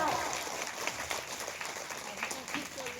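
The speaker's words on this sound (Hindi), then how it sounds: "एक बार दोनों हाथ ऊपर करके ताली लगाइए जोरदार" A crowd at a Shiv charcha religious gathering claps and applauds continuously, a dense even patter of many hands, moderately distant, with voices mixed in.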